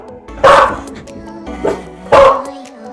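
Terrier dogs barking nearby in a home: two loud sharp barks with a softer yip between them, spaced unevenly over a few seconds, with no one talking.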